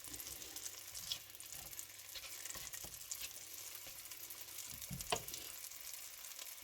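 Wild mushrooms frying in butter in a pan, giving a steady soft sizzle with a few small pops and stirring clicks, fairly quiet and heard alone.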